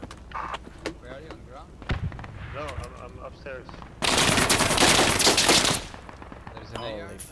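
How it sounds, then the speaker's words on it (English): Video-game gunfire: a loud sustained automatic burst of rapid shots lasting almost two seconds, with scattered single shots around it and a voice talking over the action. "Yeah, he's shooting on me."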